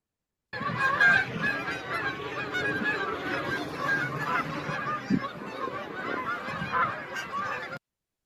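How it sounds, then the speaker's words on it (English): A flock of Canada geese flying in a V formation honks continuously, many overlapping calls loud and close, with no talk. "that tremendous sound coming from those flock of Canada geese that are flying in that classic V pattern"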